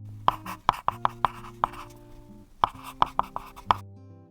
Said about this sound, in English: Just write like this: a, o.